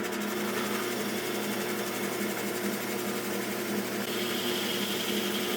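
An electric power sander works on wood for a foot stool, giving a loud, continuous buzzing whir with steady vibration that stays close and constant, with a slight rise in pitch near the end and no talking.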